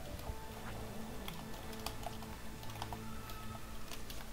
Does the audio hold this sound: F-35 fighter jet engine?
no